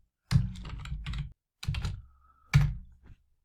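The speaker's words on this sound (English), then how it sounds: "So I'm just typing some random alphabets and strings" Typing on a computer keyboard, three short bursts of rapid close clicking keystrokes separated by brief pauses, with no talk.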